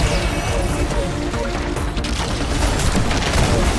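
Heavy gunfire and booming impacts from a sniper firefight in the video game Destiny 2, a dense, loud, continuous barrage with no gaps.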